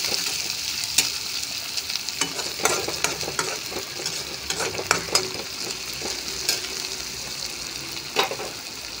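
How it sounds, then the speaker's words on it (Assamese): Onions frying in oil with nigella seeds and raw green chilli, a steady close sizzle with frequent stirring clicks and scrapes throughout. "তেলত মই দিছোঁ কালজিৰা, আৰু ইয়াৰ ৰঙা চিঙা পৰালৈকে মই ভাজি আছোঁ পিঁয়াজখিনি"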